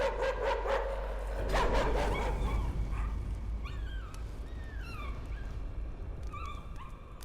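In the horror game Layers of Fear, a dog yips and whimpers in a series of short, pitched calls over a low droning ambience, some sounding distant and echoing.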